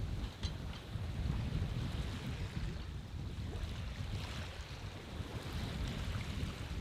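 A sailboat moves on a beam reach with a steady rush of water and wind noise on the microphone, a continuous close wash with no talking.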